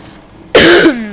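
A single harsh cough bursts out close to the microphone, loud and abrupt, trailing into a brief throat-clearing rasp after a quiet start.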